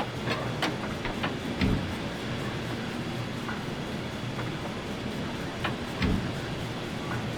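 Cab sounds of a Canadian Pacific H1 Hudson 4-6-4 steam locomotive in Trainz 2022: a steady rumbling hiss of rolling running gear with occasional clanks and a couple of heavier thumps, close and continuous.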